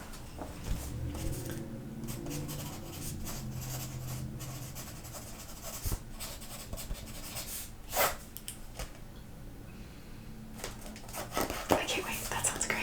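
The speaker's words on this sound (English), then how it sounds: "I'm gonna write that down." A pen scratching across paper at close range in a quiet room, soft irregular strokes and taps that go on for several seconds, with faint whispering at times.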